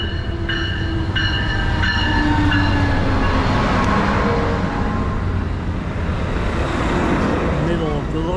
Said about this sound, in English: Is that my favorite locomotive leading?